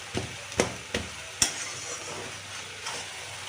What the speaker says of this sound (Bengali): নাড়া দিচ্ছি যে নিচেরটা উপর দিকে উপরেরটা নিচের দিকে করে দিচ্ছি